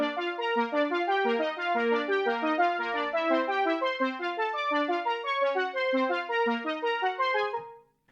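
Synth lead from the Odin 2 software synth, filtered and EQ'd, playing a quick, even run of bright overlapping notes that fill the clip alone before fading out at the end.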